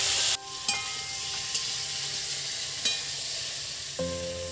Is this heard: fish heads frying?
yes